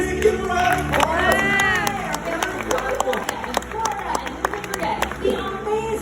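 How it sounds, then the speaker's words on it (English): Audience at a Universal Studios special effects stunt show claps and cheers, a loud continuous crowd roar with scattered whoops and shouts under it throughout. "Give them a round of applause."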